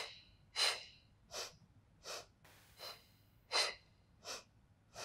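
Steady breaths during a Pilates leg exercise on the mat, seven sharp airy inhales and exhales spaced about a second apart, close and clear against a quiet room.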